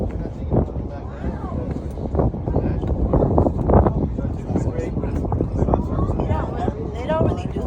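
A strong wind buffets a handheld microphone outdoors, giving loud, irregular low rumbles and thumps throughout, with voices talking faintly underneath.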